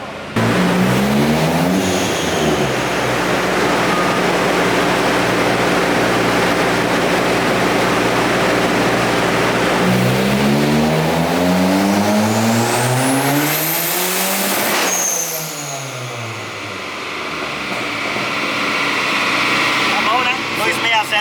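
A turbocharged Ford Focus engine in a pull, winding up repeatedly to high revs with a turbo whistle and flutter on release, loud and sustained, with people talking over it.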